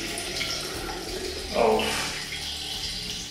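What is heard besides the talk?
pouring distilled water into a jar of sauerkraut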